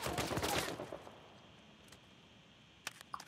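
A loud blast and burst of gunfire-like cracks open the scene in Uncharted 4: A Thief's End, decaying quickly into quiet ambience, followed later by a couple of faint sharp pops.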